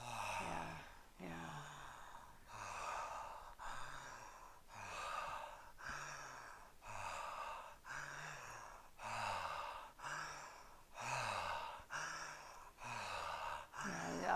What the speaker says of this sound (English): He's breathing in and out through his mouth.